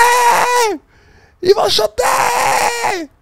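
A man on an amateur Belgian football team yells in loud, drawn-out shouts, close by, with a brief gap in the middle, his strained voice rising and falling across two long bursts.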